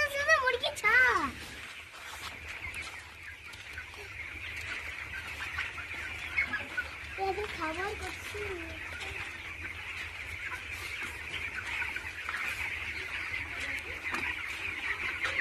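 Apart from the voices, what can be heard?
chickens clucking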